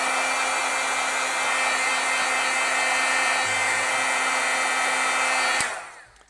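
A heat tool blasts steadily at close range while heating gold foil, a constant loud whooshing roar with a faint whine that runs for several seconds and then cuts off abruptly, leaving a short fading tail and no talk.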